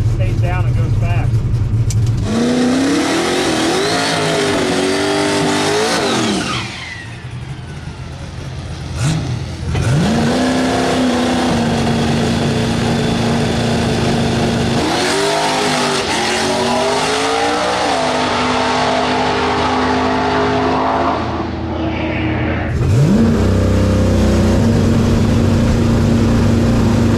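A turbocharged LS-swapped Honda drag car makes a pass down a drag strip, its engine roaring loud and close, climbing in pitch through several gear shifts, easing off briefly, then pulling hard again.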